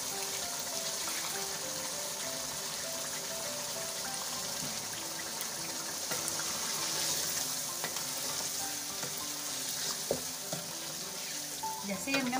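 A splash of water goes into spiced masala frying in a pan for chicken tarka biryani, setting off a steady, close hiss and crackle that holds evenly throughout with light stirring clinks.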